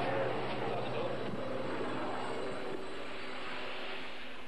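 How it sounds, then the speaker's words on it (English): A ship's helicopter lifting heavy equipment drones steadily overhead as a continuous broad engine and rotor roar, fairly distant and even throughout, with someone speaking over it. "the noise of the ship's helicopter bringing up the heavy equipment needed so urgently by the teams on the ground"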